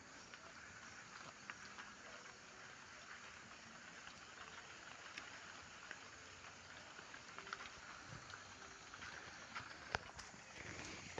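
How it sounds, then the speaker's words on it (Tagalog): Steady rain falls in bad weather at a rural home where goats are kept, a soft, even hiss throughout with faint scattered patters and no talking. "Umuulan"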